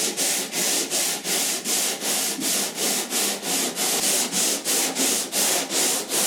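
A long Dura-Block sanding block rubs back and forth over body filler on a 1969 C10 truck panel, about fourteen even rasping strokes in steady rhythm, close and alone.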